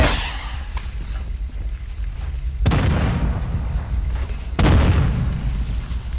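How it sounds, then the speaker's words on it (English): Two sharp, loud bursts in a video game firefight, each followed by a broad hissing rumble, with quieter background noise between them, as a smoke grenade is thrown and goes off. "Tossing smoke grenade!"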